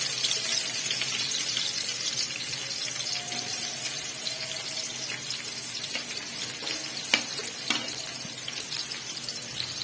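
Onions and peas frying in half a cup of hot cooking oil for a restaurant-style chicken biryani, giving a steady, dense sizzle throughout with a few brief clinks, and no talking.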